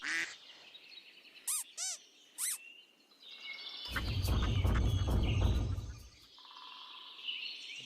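A duck gives three or four short nasal quacks near the start, followed by a louder noisy burst of sound and some high tones.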